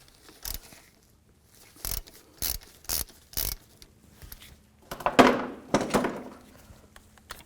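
Ratchet wrench with a 10mm socket backing out a wheel speed sensor bolt on the front knuckle of a 2008-13 Cadillac CTS, heard as a few separate sharp clicks followed by a quicker burst of ratcheting, close and fairly quiet, with no talking.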